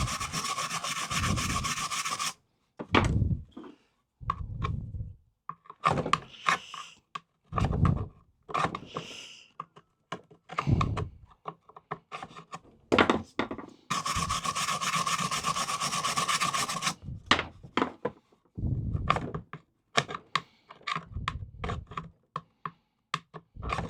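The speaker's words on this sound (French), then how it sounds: "il faut le ciseau à bois pour sortir la terre, hein, parce que la brosse métallique ne suffira pas" A wood chisel scrapes packed dirt out of a Navimow i210 robot lawnmower, giving close, dry rasping strokes in irregular bursts separated by short silences, including two longer scrapes, with no talk.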